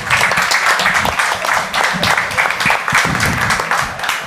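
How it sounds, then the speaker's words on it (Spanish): Loud, close applause from an audience at an art event in Málaga, dense overlapping clapping sustained evenly for several seconds. "Un fuerte aplauso para ella."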